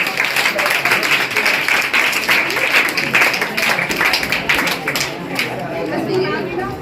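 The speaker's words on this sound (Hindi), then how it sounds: "तो जोरदार तालियां आप लोग एक बार बजा दीजिए" A crowd at a general knowledge competition prize ceremony gives loud, sustained applause, with chatter and voices mixed in as the clapping fades slightly toward the end.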